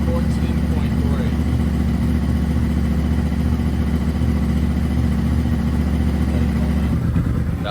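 A sixth-generation Honda VFR800 motorcycle engine idles close by with a steady, loud, low rumble that stays even throughout.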